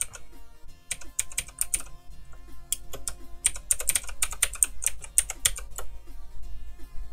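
Typing on a computer keyboard while setting up an emulator: quick bursts of crisp key clicks with short pauses between runs, close and fairly quiet, with no talking.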